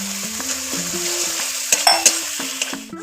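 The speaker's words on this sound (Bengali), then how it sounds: "আমার মশলা দিয়ে তেলটা ছেড়ে গেছে মশলাটা কষানো হয়ে গেছে" Turmeric and chili spice masala frying in oil for a potol roast, a steady close sizzle under repeated stirring and scraping taps of a spoon against the pan, with a few sharper clinks near the end.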